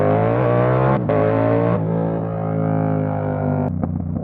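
A Yamaha R7 motorcycle revs hard and loud up close at a wheelie meet, its engine note holding high, briefly dropping off and then climbing again twice.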